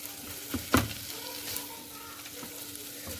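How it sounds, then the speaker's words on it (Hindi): Spiced vegetables for a samosa filling, seasoned with chaat masala, fry in a pan as they are stirred: a soft, steady sizzle with a few sharp spoon scrapes near the start. "अब इन स्पाइसेस को अच्छे से करेंगे मिक्स।"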